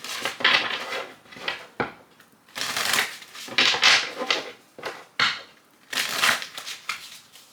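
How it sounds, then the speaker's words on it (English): Repeated bursts of tarot cards being shuffled close up, riffling in quick rustling spurts separated by short pauses. "I have to do a quick shuffle."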